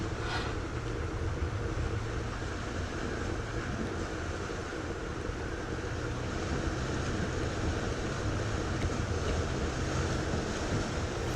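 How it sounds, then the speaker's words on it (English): A 105 series Toyota Land Cruiser rumbles through a river in Tasmania, a steady broadband wash of splashing and flow with wind noise over the microphone throughout. "Here you can see the 105 series Land Cruiser crossing Ring River"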